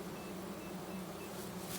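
A queenless honeybee colony drones inside its hive, a low, steady, continuous buzz of many bees that is faint and even throughout, with no voices.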